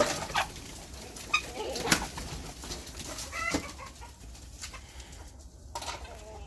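Chickens bursting out of a just-opened coop, a flurry of flapping wings, scattered clucks and scuffling bodies, with a few sharp flutters standing out over a steady rustle; moderately close and fairly quiet.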